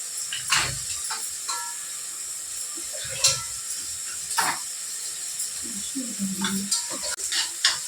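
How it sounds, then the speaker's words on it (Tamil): Tomato and brinjal fry in hot oil in a home kitchen, giving a steady bright sizzling hiss broken by occasional soft knocks and stirring sounds, close by throughout. "டமாட்டோ நல்லா ஃப்ரை ஆகிடுது."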